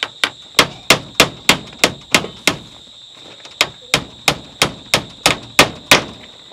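Nails are hammered in a quick series of sharp, ringing metallic strikes, about sixteen blows in steady rhythm with one short pause, loud and close.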